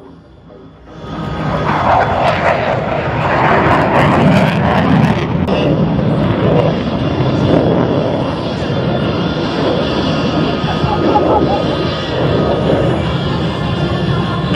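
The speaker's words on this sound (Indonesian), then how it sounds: "Sebanyak 4 pesawat Jupiter TNI AU bermanuver dengan indah di atas langit Pulau Dewata." Four Jupiter aerobatic aircraft of the Indonesian Air Force fly overhead at an airshow in Bali, a loud sustained engine roar that swells in after a quiet opening and holds steady, with faint crowd murmur beneath.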